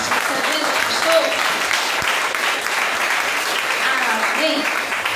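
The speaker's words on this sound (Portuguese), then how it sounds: "Vamos aplaudir o Senhor" A church congregation at a healing service applauds together: dense, sustained clapping throughout, with voices calling out over it and brief shouts of praise mixed in.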